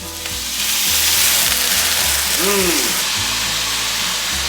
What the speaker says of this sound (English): take our pile of mushrooms, go ahead and add those too, give her a stir